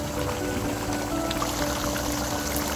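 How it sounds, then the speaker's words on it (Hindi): Water is poured into a pot of beef biryani on a kitchen stove over a low flame, a steady close splashing stream that runs continuously for a few seconds without talk. "फ्लेम को लो करेंगे और इसमें पानी ऐड करेंगे थोड़ा सा।"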